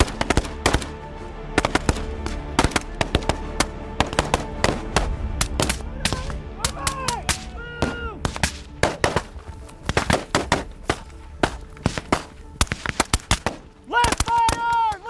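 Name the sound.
gunfire during ambush training drill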